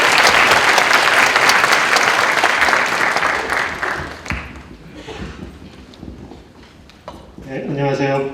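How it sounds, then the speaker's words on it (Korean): A seminar audience gives loud, sustained applause to welcome a professor, the dense clapping filling the first few seconds before thinning out and fading, with a voice rising over the end. "정말 큰 박수로 맞이를 해주시기 바랍니다"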